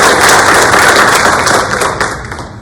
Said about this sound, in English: clap it up for Sherwood Williams